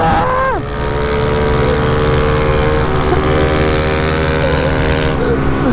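A pit bike engine revving outside an abandoned house, loud and close, a steady droning whine with a quick pitch drop at the start before holding a sustained buzzing tone.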